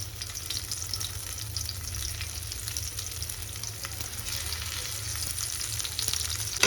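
Stuffed okra fries in hot oil in a pan, giving a steady, close sizzle and crackle that stays even throughout with no talking.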